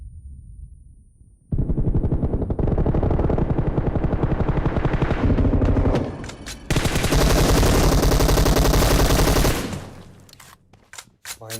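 An M249 fires in PUBG gameplay, rattling off two long, loud automatic bursts of rapid gunfire after a quiet start, with a brief pause between them and scattered shots trailing off at the end.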